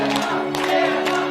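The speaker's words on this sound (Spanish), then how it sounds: "Vean, lo reciben con aplausos" An arena crowd at the Canelo vs Golovkin boxing match applauds and cheers a singer as he steps into the ring. The clapping and crowd noise is steady and fairly loud, mixed with sustained tonal sound.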